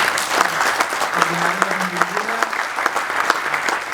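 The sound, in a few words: audience applause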